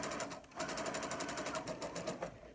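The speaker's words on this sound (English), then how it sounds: "we see how fast the machine can go" A Brother SE400 sewing machine stitches at its fastest speed, its rapid even needle chatter running steadily and loudly up close with no talking.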